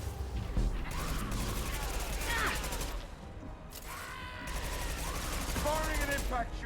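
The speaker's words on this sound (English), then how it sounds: "Firing an impact shot!" Impact shot and gunfire in the Mass Effect 2 video game: dense, continuous bursts of weapon fire and mechanical clatter across the clip, with a brief lull midway, loud and close with a voice talking over it.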